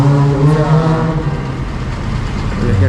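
A Russian military truck rumbles past on a street in Samara, a steady heavy low engine drone with faint mid-range whine, loud and close throughout with no pause.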